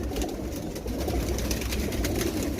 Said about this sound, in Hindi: ये बड़े कबूतर हैं